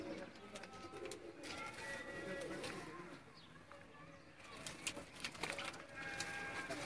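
Pigeons at a Sialkot loft, including pearl-eyed birds and a Chui breed female, cooing and fluttering close by amid steady rustling and background noise, with people talking over them.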